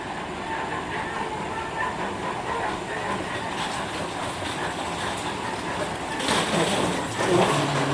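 Rome subway train running with a steady rumbling roar and rail clatter throughout, growing louder near the end as it passes or brakes, with faint voices in the background.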